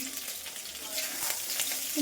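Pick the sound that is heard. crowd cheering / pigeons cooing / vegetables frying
vegetables frying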